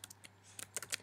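Quick, light clicks of a computer keyboard, a short burst of about a dozen keystrokes typed close by in a quiet room.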